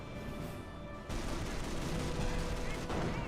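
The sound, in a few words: gunfire in Company of Heroes video game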